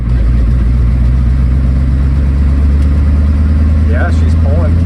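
Ford Bullnose tow truck engine lugging at low speed in fourth gear, a steady deep drone with low rumbling harmonics throughout, close and loud, with brief faint squeaks near the end.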